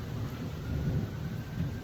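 Steady rainfall heard as a continuous, even wash of noise with a low, rumbling, storm-like undertone throughout, without breaks or voices.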